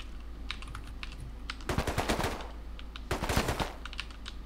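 Rapid automatic gunfire in a video game, heard as two dense bursts of crackling shots over a constant low hum, with faint scattered clicks between the bursts.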